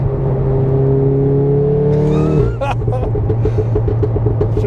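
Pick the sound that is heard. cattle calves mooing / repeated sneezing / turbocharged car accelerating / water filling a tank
turbocharged car accelerating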